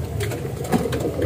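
A small contest pigeon coos softly and close by in a short series of low, throaty, rolling notes.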